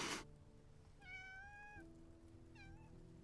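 A cat in the video game Love and Deepspace gives two clear meows, a longer drawn-out one followed by a shorter one, over a soft steady background hum.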